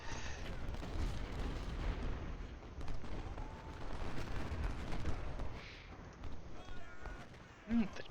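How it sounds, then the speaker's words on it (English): Cannons boom in the Ultimate General: Civil War strategy game, among them 6-pounder guns: dense, rolling artillery and gunfire blasts run throughout at a moderate level without pause. "The artillery's doing good this time, even the 6-pounders."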